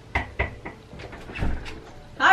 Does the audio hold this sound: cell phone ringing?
no